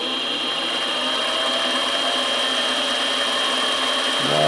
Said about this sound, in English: Drive the bit through.